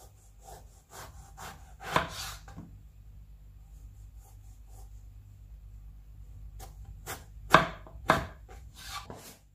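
A knife chops eggplant on a cutting board for Bengali beguni. Sharp taps come in short bursts with a quiet pause between them, close and crisp.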